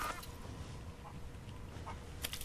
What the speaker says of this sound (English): I found my way to these chickens.